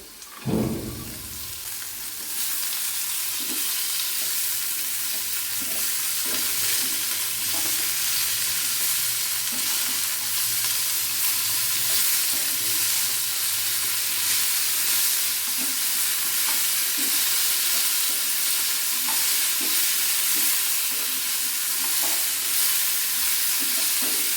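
Tender stalks and potatoes fry in a pan with a loud, continuous sizzle and hiss that holds steady, starting after an initial clatter of ingredients going in, with faint scraping stirs throughout.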